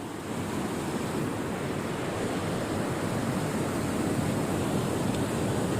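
Flood water from heavy rain rushing over a submerged bridge in Sangli, a loud, continuous broadband roar with no breaks, like heavy surf, with no voices.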